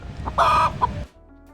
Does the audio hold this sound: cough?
no